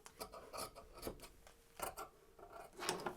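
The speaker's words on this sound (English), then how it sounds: "And then I'm also going to cut this batting." Scissors cut through soft quilt batting for a quilted coat, a series of quiet, close, crunchy snips and rasping slices in uneven bursts, faint with no voices.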